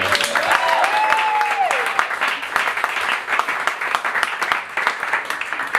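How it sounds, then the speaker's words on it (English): Wedding guests break into a hearty round of applause during the speeches, close and continuous clapping with a few cheers and voices mixed in throughout. "Huge round of applause there"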